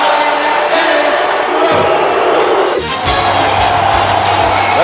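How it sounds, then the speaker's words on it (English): Hockey arena crowd roaring at the Met Center in Bloomington, Minnesota, during a Stanley Cup playoff game between the Minnesota North Stars and St. Louis Blues, a loud, sustained wash of cheering. "The crowd here at the Met Center in Bloomington, Minnesota is up again, roaring"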